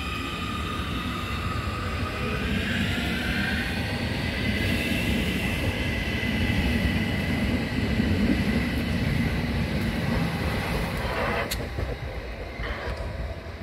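A new Munich-style U-Bahn subway train pulls away from the platform toward the sidings, a steady loud rumble with rising motor whine over about fourteen seconds before fading off.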